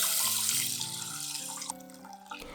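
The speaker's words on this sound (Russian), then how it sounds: "Заливаем водой." Water runs and splashes steadily into a pot holding a cup of rice, its pitch rising as the vessel fills, then tapering off.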